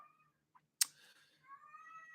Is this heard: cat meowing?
yes